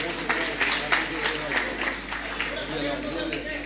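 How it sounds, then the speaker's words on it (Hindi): An audience gives a short burst of clapping and applause at a ceremony, brisk and moderately close, with a voice speaking over it. "बहुत जोरदार तालियों के साथ स्वागत।"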